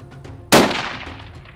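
A single loud rifle shot fired by a hunter during a buffalo and plains game hunt in South Africa, a sharp blast with a long decaying tail following a quiet moment.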